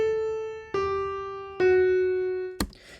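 Piano playing four sustained notes in a slow descending line, each struck about 0.8 seconds apart and ringing clearly until the next, alone with no voices, ending in a short sharp click.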